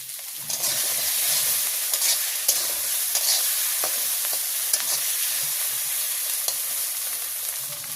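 Food fries in mustard oil with salt and turmeric at a village cooking fire, giving a steady bright sizzle with scattered clicks and scrapes as it is stirred, close and continuous with no talking.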